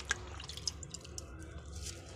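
Water drips and splashes faintly as a rabbit is bathed in plain water in a bucket, a few scattered light plinks over a soft background hiss.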